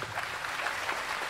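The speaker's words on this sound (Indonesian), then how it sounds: "Tepuk tangan saya, jamaah Padang Bulan." A crowd of worshippers applauds at an Islamic sermon, a dense, steady patter of many hands that sounds fairly faint and distant throughout.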